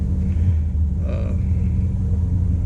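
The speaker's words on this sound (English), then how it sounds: "they hit the nail on the head when it comes to sound of the engine" A 2016 Shelby GT350 engine drones low and steady from inside the car while driving, a constant deep rumble with a faint higher tone briefly rising over it.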